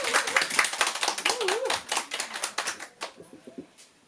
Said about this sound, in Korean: 자축의 박수로 한번 쳐볼까요?